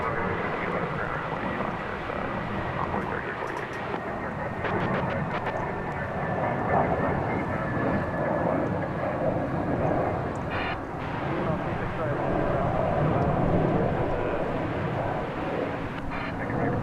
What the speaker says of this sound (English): Off to San Antonio, Texas goes this Airbus A320, American Airlines Flight